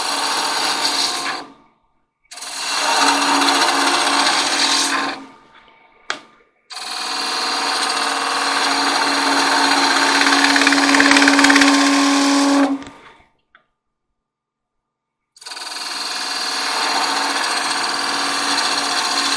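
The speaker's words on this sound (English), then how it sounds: "come back with our ½ inch spindle gouge and just start working that down to a kind of a concave shape" A half-inch spindle gouge cuts a wooden goblet stem on a lathe, making loud, rough scraping and shearing noise in several long bursts separated by short silences.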